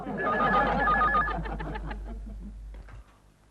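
A landline telephone rings indoors in a household scene, loud repeated electronic ring bursts that fade toward the end, with faint voices in the background.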